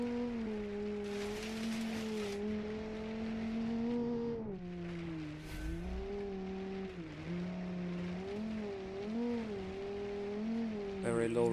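A V10 off-road truck engine in a racing video game idles and rises at low revs, a steady droning hum with gentle pitch swells, under someone talking over it.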